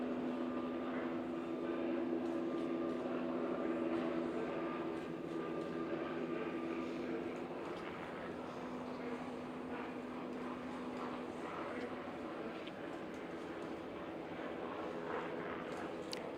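Several helicopters and planes fly overhead at a South Carolina funeral for Sen. Lindsey Graham outside First Baptist Church, a sustained distant engine roar and drone that fills the air with a steady low hum.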